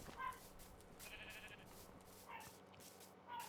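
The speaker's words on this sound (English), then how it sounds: "Some more sheep." Sheep in the Minecraft video game bleating in short separate calls, three or four faint bursts spread across the stretch over quiet game ambience, with no talk.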